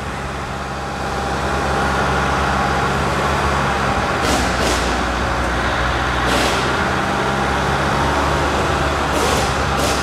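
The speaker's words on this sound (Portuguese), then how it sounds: "As quatro rodas funcionando, ó." Chevrolet S10 pickup in four-wheel drive, its engine and drivetrain a loud steady rumble throughout, with brief hissing bursts like air releases a few times.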